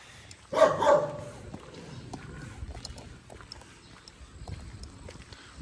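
A dog gives a short burst of barks near the start, then quieter background rustling and faint noises follow without further clear barking.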